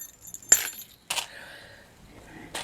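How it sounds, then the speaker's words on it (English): A small metal bell from a luxury boxed craft kit being handled, giving a few sharp close metallic clinks and jingles separated by brief quiet gaps, with faint ringing after each. "Now, you get the bell."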